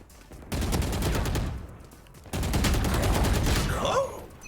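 Rapid automatic gunfire in Valorant comes in two sustained bursts, close and loud, each a dense stream of rounds, with a short pause between and a voice at the end.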